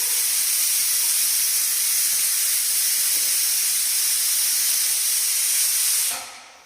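A pressure cooker whistle blows a loud, continuous hiss of escaping steam for about six seconds before cutting off abruptly, close by with no voices.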